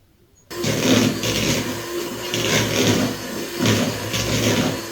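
Butter being beaten for Christmas cookie dough by an electric mixer, a steady close whirring drone with a rhythmic rise and fall, starting abruptly after a brief silence.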